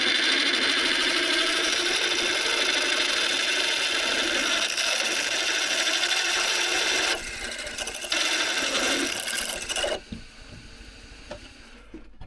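An 8.1 drill boring into mild steel plate for a heavy-duty boat rudder, a continuous loud grinding whir that falters briefly, resumes, then cuts out near the end as the motor winds down.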